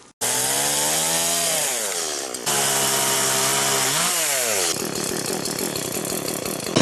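A chainsaw bites into a dry deadwood log in the taiga, a loud, close, continuous buzzing whine that drops in pitch under load and briefly recovers between cuts.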